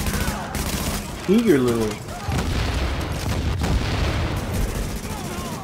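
In The Division, enemy gunfire crackles in bursts and scattered shots across a squad firefight, loud and near, with a player's brief voice cutting in over the shooting.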